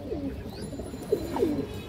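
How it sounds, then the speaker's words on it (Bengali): A female Makra Musaldom pigeon coos close by: a few soft, low, gliding coos, one stronger near the end, over faint background noise and with no speech. "মাকড়া মুসলদম মাদি কবুতর"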